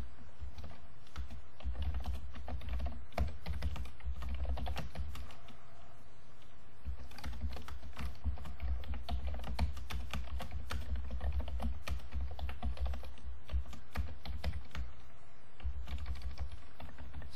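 Code being typed on a computer keyboard in an IDE for the LÖVE game framework: steady, rapid keystrokes clatter close by, with a short pause around the six-second mark before the typing resumes.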